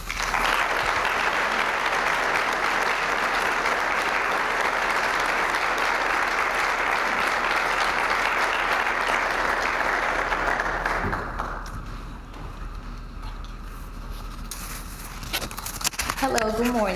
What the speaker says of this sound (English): Please give her a round of applause as I invite Claudia to the stage to share her story with you